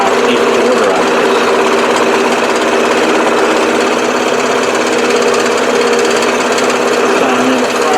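A PS wood saw runs steadily through hardwood up to 1.5 inches thick, giving a loud, continuous buzzing whine with constant pitch and no pauses, close and unbroken for the whole stretch.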